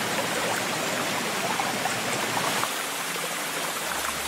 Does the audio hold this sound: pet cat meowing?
no